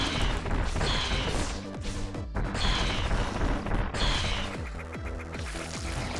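Samus firing super missiles in AM2R, a dense run of loud crashing blasts and explosions repeating in rough bursts about every second, with game effects clattering underneath.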